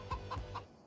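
Chickens in a farming video game give three short, evenly spaced clucks, close and clear, over a faint background hum.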